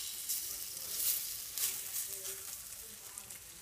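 Butternut squash fritter mixture sizzles in an oiled frying pan, a soft, steady hiss with a few light crackles and pops rising and fading over a few seconds.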